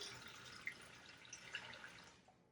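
Warm water poured into a bowl of breadstick dough ingredients, a soft continuous splashing pour with a few faint drips, fairly quiet and fading out at the end.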